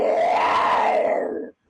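A human voice imitates a mountain lion growl with a single rough, rasping snarl that swells and then fades out, followed by a brief silence and a short new sound at the very end.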